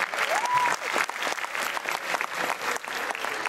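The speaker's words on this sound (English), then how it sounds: "A big applause" Applause fills a community Diwali gathering, many hands clapping in a continuous, moderately loud burst with a faint tonal whistle near the start.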